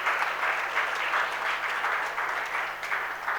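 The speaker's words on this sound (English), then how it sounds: "A big round of applause to all of them." An audience at a book award ceremony claps for young students in steady, dense applause that holds evenly throughout without voices over it.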